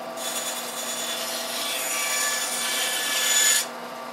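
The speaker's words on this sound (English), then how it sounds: "So I'll cut it on the bandsaw here." A bandsaw cutting through wood during a woodworking build, giving a steady, close rasping whine that holds for several seconds, swells near the end and then drops away as the cut finishes.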